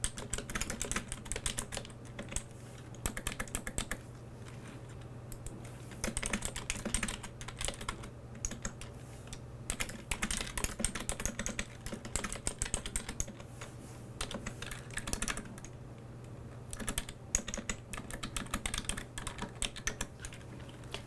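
Steady typing on a computer keyboard as billing details are entered into account setup fields, with rapid close key clatter in bursts and brief pauses throughout, no speech.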